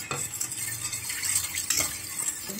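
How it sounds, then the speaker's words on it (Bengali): Semolina batter for an eggless fruit cake being stirred with milk in a bowl, a continuous close wet scraping and swishing with light utensil clinks, no voices. "দুধটার সাথে এগুলোকে মেশাবো ভালো করে।"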